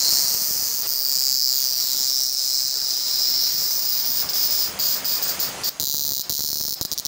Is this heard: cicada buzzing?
yes